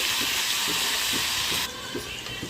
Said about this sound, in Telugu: అల్లం వెల్లుల్లి ముద్ద వేసి ఇలా కలుపుకోవాలి